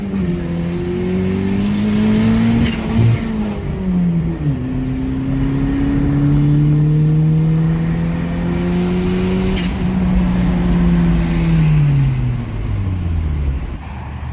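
Boosted Honda EF cars race back past, engines revving loud and close with rising and falling tones and gear changes, a continuous roaring pass that lasts throughout.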